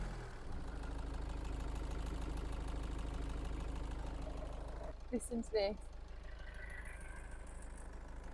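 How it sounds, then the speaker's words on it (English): A high-mileage Range Rover Evoque engine with a worn release bearing idles with a low, rough drone and then rises briefly in a short, coarse rev; a voice speaks over it at the start. "Now you rev it up and see that coarseness."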